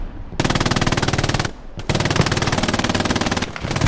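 Machine gun fire in an 18-versus-18 multiplayer video game battle: loud, sustained rapid bursts with a short pause near the middle, then another long stream of fire close by.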